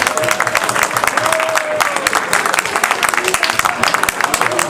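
A crowd applauds a coach and team with dense, steady clapping throughout, the sound lively and continuous with a voice talking over it.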